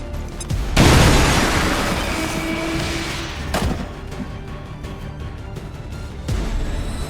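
A grenade goes off in the game XCOM 2: a loud, close boom with a long rumbling decay, then a softer thud and scattered debris noise as it settles.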